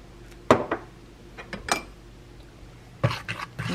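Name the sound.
mixing melted butter into waffle batter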